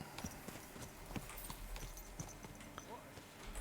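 Steady clip-clop of horse hooves trotting at an even rhythm in Kingdom Come: Deliverance II, fairly close, with faint ambient noise behind.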